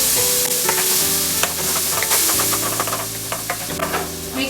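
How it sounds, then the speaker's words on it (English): Tomatoes sizzle in a hot pan as they are crushed and stirred for cabbage rolls, with a steady loud frying hiss broken by scraping and stirring knocks. "We're going to add our tomatoes. And we're going to crush it."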